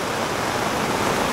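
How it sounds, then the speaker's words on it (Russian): Steady night rain falls in Koktebel, Crimea, heard from under an umbrella as an even, close, broadband hiss with no pauses. "дождик вот вроде как заканчивается. А вроде бы и не заканчивается"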